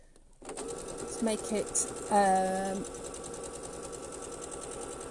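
A sewing machine stitches around a zipped fabric cushion, its steady close mechanical whir running under a voice, with a short back-stitch burst partway through.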